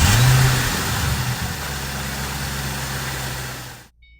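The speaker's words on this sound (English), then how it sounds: "now I'm going to start the car, and we'll listen to it run" A 2008 Ford Mustang Shelby GT500 engine catches and flares to a loud rev, then settles into a steady, rumbling idle before cutting off abruptly.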